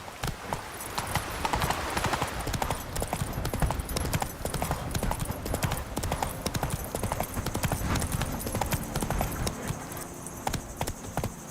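Geralt's horse Roach from The Witcher 3 trots in a steady, continuous clip-clop of hooves, fairly close and unbroken across the whole stretch.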